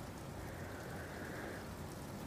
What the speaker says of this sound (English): I might turn the rain up just a tad, maybe.